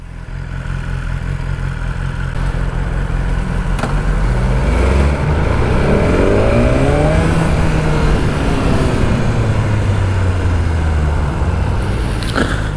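A BMW S1000R motorcycle accelerating on the road, with a loud, close engine whose pitch climbs steadily through the gears over constant wind rush.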